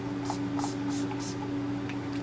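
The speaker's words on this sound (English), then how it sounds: "I just spray my face with the Urban Decay De-Slick Spray," Urban Decay De-Slick setting spray misted onto a face in four quick, evenly spaced hissing bursts, close and soft over a steady low hum.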